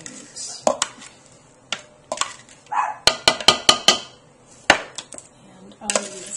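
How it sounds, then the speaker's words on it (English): A dog barks in short, sharp bursts, some grouped in quick runs, from within a home kitchen where raw vegetables are prepared in a bowl. Clatter and voices are mixed in. "while the dog barks."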